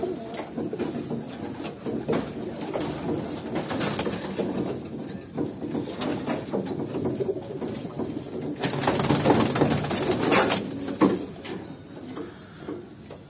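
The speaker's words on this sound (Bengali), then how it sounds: "এগুলো আমার বাসার বিডার কবুতর।" Breeder pigeons kept at a home loft coo continuously nearby, low rolling calls overlapping throughout, with occasional rustling and a louder stretch toward the end.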